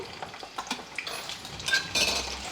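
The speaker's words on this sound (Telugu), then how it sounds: "నూనె వేడెక్కిన తర్వాత ఇదిగోండి కొంచెము పొట్టు తీసేసి కట్ చేసుకున్న వెల్లుల్లిపాయలు" Soft crackling sizzle of peeled, cut garlic in hot oil in a pan, with scattered light clinks and stirring sounds, growing a bit louder toward the end; no voices.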